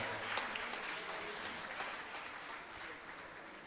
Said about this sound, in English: A louder round of applause for this beautiful performance.